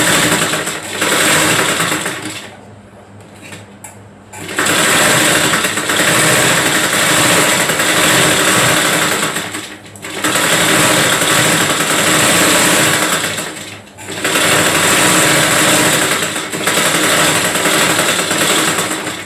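A sewing machine stitches a seam on a five-year-old girl's frock in long, loud motor runs with a few short stops in between. No one speaks.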